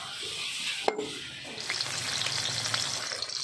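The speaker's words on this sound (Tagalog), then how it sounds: "Magluluto na ako ng kapartner niyan guys, yung pritong isda." Fish fries in a pan with a steady crackling sizzle, close and fairly loud, broken by a sharp clank just before one second; no one speaks.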